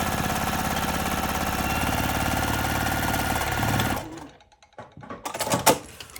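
A sewing machine stitches through fabric at a steady rapid whir for about four seconds, then stops; a few soft handling clicks and rustles follow as the work is moved.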